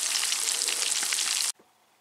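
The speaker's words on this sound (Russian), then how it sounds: "Вот так у меня жарится рыбка." Fish frying in a pan at home, with a loud, steady crackling sizzle that runs unbroken for about a second and a half, then cuts off sharply into near silence.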